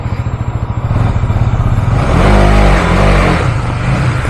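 A vehicle engine labours uphill in freezing cold on the road to Silent Valley near Munnar, a steady loud drone with a pulsing low throb that swells and strains halfway through without letting up.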